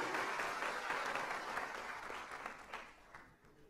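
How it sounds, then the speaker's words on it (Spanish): Church congregation applauding steadily, a dense, even wash of clapping that fades slightly toward the end, with no voices over it. "Dele ese aplauso de gloria a Dios."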